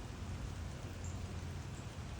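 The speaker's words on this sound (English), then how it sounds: "It's really been hard rain all day." Steady, dense hiss of hard rain falling outdoors through a full day's downpour, an even wash of drops with no gaps and no voices.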